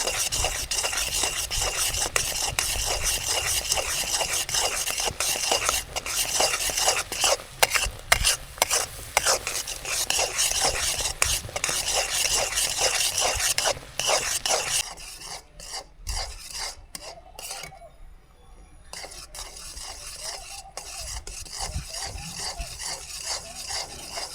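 Sugar syrup being cooked down to one-thread consistency is stirred in a pan, producing rapid repeated scraping and rasping strokes with a bubbling sizzle beneath, close and steady, briefly pausing near the end.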